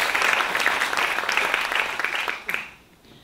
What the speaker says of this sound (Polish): Bardzo proszę, wielkie brawa.